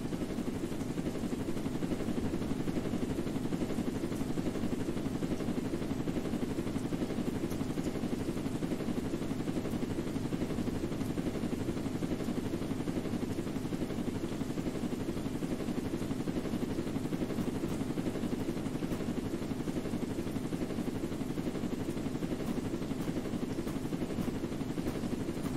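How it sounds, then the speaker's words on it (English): Helicopter flying in the Roblox game Jailbreak, a steady, loud rotor-and-engine drone that holds unbroken throughout, with no talk over it. "I can get back in the heli again"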